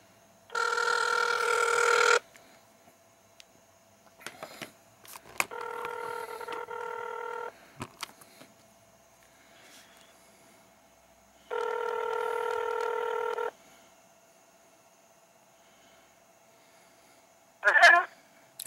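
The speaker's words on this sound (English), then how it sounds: "Let's call this number this guy gave me. Be right back once it's dialed." A telephone dialing in a rapid string of DTMF keypad tones, followed by long steady ringback tones with pauses between, heard close and clear with faint background noise and a brief voice at the end.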